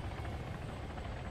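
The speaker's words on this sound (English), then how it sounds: "we got lots of helicopters around here" A helicopter in the military game Arma 3 whirs steadily and loudly, its rotor chop continuous and close with no talking.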